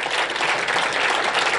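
Dense, steady audience applause at a university scholarship event, many hands clapping at once at a loud, even level with no gaps.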